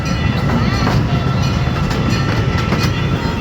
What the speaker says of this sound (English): gas-powered handmade replica of an Pacific train that will take you through this 60-acre entertainment complex